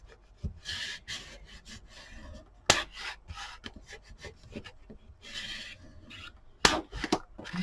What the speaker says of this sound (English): go ahead and burnish those in really, really good